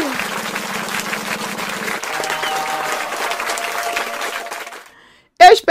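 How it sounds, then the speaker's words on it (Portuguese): A crowd claps steadily for several seconds, a thick even patter with voices and a held tone underneath, before it fades to near silence and a brief loud burst at the very end. "palmas aí para o rei do Halloween"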